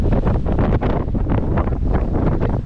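Strong wind roaring across the microphone at a seashore, a loud, continuous buffeting rush that mostly buries the waves breaking along the shore.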